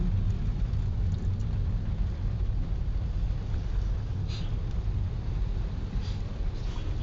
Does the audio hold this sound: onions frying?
no